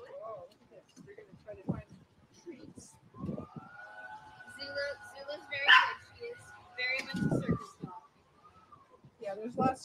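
Small yappy dog barking in snowy outdoor surroundings, sharp yaps scattered through the stretch amid people talking nearby.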